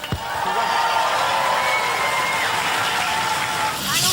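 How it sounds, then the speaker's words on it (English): Studio audience applauding and cheering the Robot Wars competitor robot Spawn of Scutter, a sustained wash of clapping with a few whoops, swelling again near the end. "Ladies and gentlemen, round of applause for Spawn of Scutter."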